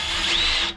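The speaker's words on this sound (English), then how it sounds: "just gonna drill this out there before the armor's in the way" A power drill whines steadily at high speed as it drills out a hole in a busbar chamber, close and loud, then cuts off abruptly.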